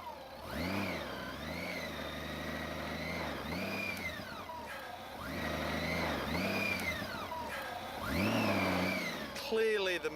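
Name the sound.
Honda Goldwing motorcycle engine revving in sand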